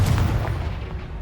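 Confringo blasting spell explosion in Hogwarts Legacy: a single loud, booming burst with a heavy low rumble that quickly fades over about a second, with no voice.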